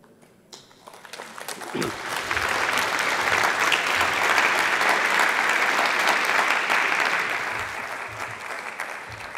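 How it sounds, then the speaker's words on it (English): Sustained applause from a large audience, swelling after a couple of seconds into steady clapping that holds, then begins to taper slightly near the end. "I'll make sure he knows you applauded him"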